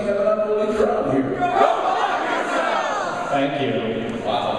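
A rowdy convention audience at a MAGFest voice-acting panel shouts and yells together in a dense, continuous roar of many overlapping voices, loud and close throughout.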